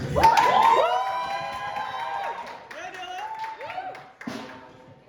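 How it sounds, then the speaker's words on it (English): Comedy club audience cheering, whooping and clapping as a comedian takes the stage for his debut stand-up set, loud at first then thinning out, with shouted voices mixed through the crowd noise. "I appreciate the applause."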